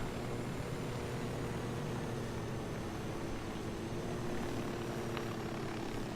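A helicopter in the Ghost Recon Wildlands video game gives off a steady, low rotor and engine drone that stays even and unbroken throughout at moderate volume.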